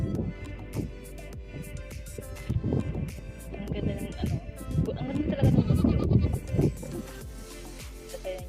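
Goats bleat repeatedly, several overlapping wavering cries, some close and loud, others softer, scattered through the whole stretch.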